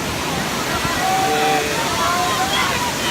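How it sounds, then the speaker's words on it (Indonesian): A waterfall at SP4 Asam Point in Aceh Jaya roars as a steady, dense rush of water that fills the whole stretch at a constant, fairly loud level. "sekarang kita udah sampai di air terjun SP4 Asam Point Aceh Jaya"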